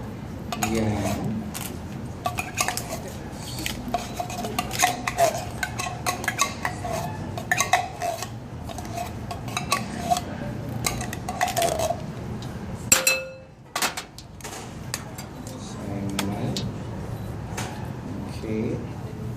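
Utensils scrape and clink against a metal pan at a cooking workshop station, irregular close scrapes and knocks running throughout under intermittent talk, with a brief louder clatter near the end.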